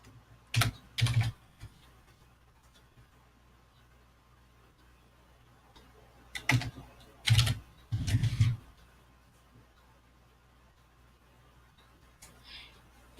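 Keystrokes on a computer keyboard entering a web address, heard in a few short bursts of quick taps separated by long quiet stretches, close and fairly soft, with no one talking.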